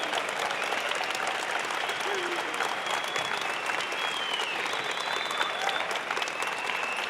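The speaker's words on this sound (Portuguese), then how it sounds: "Por favor, levantem-se agora e aplaudam-se" A large conference audience stands and applauds, producing a loud, dense wash of clapping that holds steady from start to finish, with faint crowd murmur and shouts underneath.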